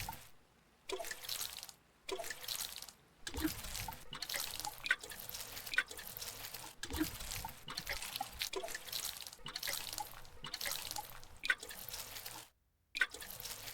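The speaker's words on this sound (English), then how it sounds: "watering my crops." Crops being watered in the farming video game Grimshire: repeated splashing, trickling water bursts of a second or two each, separated by short silent pauses, with no talking.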